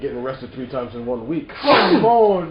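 A man sneezes sharply once in a studio talk-show setting, a loud burst following continuous conversation from the hosts.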